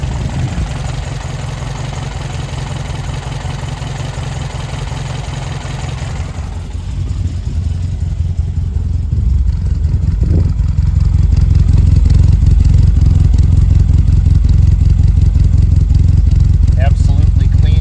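A 1971 Alfa Romeo GTV engine idles after a cold start, a steady close-up mechanical drone with clattering texture that grows louder and deeper partway through, heard alone.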